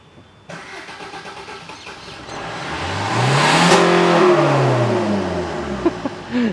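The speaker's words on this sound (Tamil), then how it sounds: "இப்போ நம்ம வந்து வண்டியை ஸ்டார்ட் பண்ணி அந்த ஸ்மோக் எப்படி வருது அப்படிங்கிறத நம்ம பார்ப்போம்" A turbocharged car with a carbon-clogged EGR valve and black exhaust smoke cranks and fires up after a quiet moment, then revs with a steadily climbing engine note before easing back, loud and close, with no talking.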